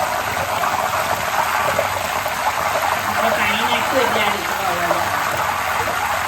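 Salted water splashed into hot oil where raw banana chips are frying gives a steady broadband sizzle and bubbling that runs through the whole stretch, with faint talk underneath.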